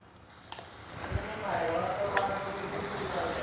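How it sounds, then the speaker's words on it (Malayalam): Ghee heating in a pan, ready for ground jackfruit, with a soft steady sizzle that rises after a second and holds to the end, a few small clicks and taps near the start. "കുറച്ച് നെയ്യ് ഒഴിച്ചു കൊടുത്തു ഒരു പാനിൽ."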